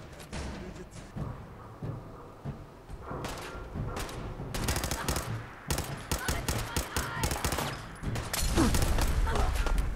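Gunfire and blasts in Fallout during an assault on the Corvega Assembly Plant: irregular bursts of shots and thumps, growing denser and louder toward the end, with faint voices underneath.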